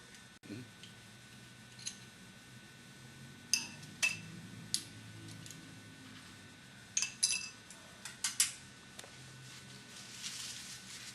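Crucible and its cover being moved with bare metal tongs into a desiccator in a chemistry lab, giving several light, sharp clinks and ticks spaced a second or so apart over a quiet background.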